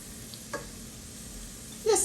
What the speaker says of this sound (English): Now I'm going to put my fully cleaned and deveined shrimp right in my butter and oil mixture.